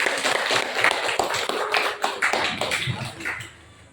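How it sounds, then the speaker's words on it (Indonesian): Students clapping together in a classroom after a group presentation in a math lesson, a brisk run of sharp claps that fades toward the end. "Ya, tepuk tangan dulu."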